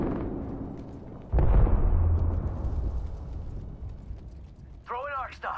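Grenade blast in a squad-based video game shooter, a sudden loud boom partway through followed by a long rumbling decay, with a sharp whistling sound near the end.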